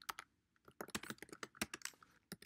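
Rapid, irregular keystrokes on a computer keyboard while entering git commands during web development, close and crisp, with short pauses between bursts and no talking.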